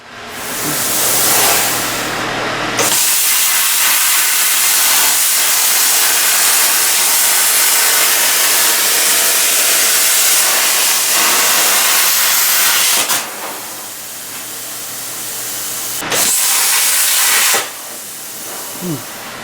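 Sheet metal is cut for the floor of a 125cc drift trike, giving a loud, continuous hissing rush that runs for long stretches and breaks off briefly a few times.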